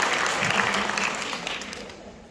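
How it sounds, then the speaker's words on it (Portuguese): Crowd applause for Brazil's public health system at a talk on integrative practices, a dense steady burst of many hands clapping that gradually thins and fades over a couple of seconds. "Palmas para o SUS"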